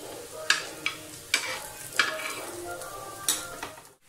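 Beef shami kababs fry in oil on a flat tawa griddle with a continuous soft sizzle, punctuated by several sharp metallic scrapes and taps of a spatula at irregular intervals, all fairly close and with no speech.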